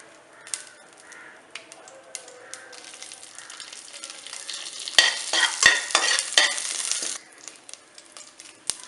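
Urad dal, cumin and broken dried red chillies dropped into hot oil: faint crackles at first, then a louder burst of sizzling and popping that fades after a few seconds, with a crow cawing in the background.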